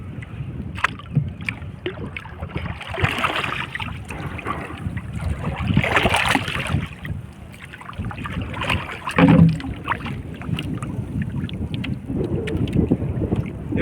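A small fishing boat being moved across the water, with water and wind noise rumbling continuously up close and no talk over it.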